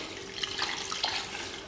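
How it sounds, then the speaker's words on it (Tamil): Water pours steadily into a cooking pot of rice for chicken biryani, a close, continuous splashing trickle with no voices. "இப்போ வந்து தண்ணி சேர்த்துக்கலாம்."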